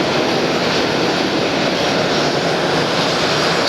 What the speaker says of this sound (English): This is an OG Delta Airlines 757